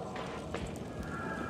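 A brief run of muffled hoofbeats thuds in the horror video game Medusa's Labyrinth, soft and partly buried in a dense, rumbling ambient bed.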